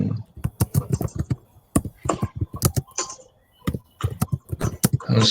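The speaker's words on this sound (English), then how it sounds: "I'm typing." Rapid, uneven clacks of keys being typed close by, in bursts with short pauses between them.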